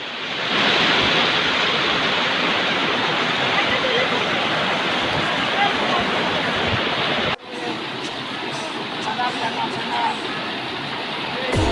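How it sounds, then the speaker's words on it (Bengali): Shower water pouring down from above at an outdoor swimming pool, a loud, steady hiss-like rush that drops to a quieter, thinner spray partway through. "উপর থেকে এই যে সাওয়ারের জল পড়তেছে"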